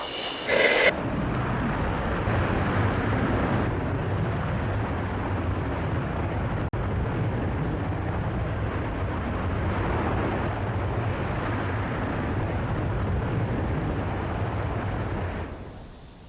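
Virgin Galactic Unity 22 rocket motor firing during the July 2021 spaceflight, a steady, heavy roar that holds loud and unbroken for about fifteen seconds before cutting off.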